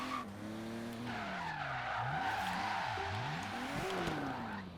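Tires squeal and skid continuously as a Rocket Bunny BMW E46 drift build spins out in the racing game Forza Horizon 3, with engine revs rising and falling under the screeching.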